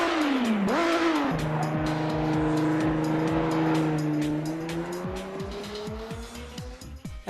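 A BMW racing car's engine in the Assetto Corsa driving game revs loudly and steadily, with a strong rising and falling tone, while tyre squeal runs through it and crackling pops sound near the end.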